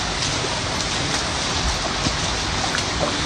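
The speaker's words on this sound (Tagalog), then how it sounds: "Bigla nga naman pong lakas ang ulan." Heavy rain pours steadily and loudly by a river, a dense continuous hiss of drops hitting the surface with no voices over it.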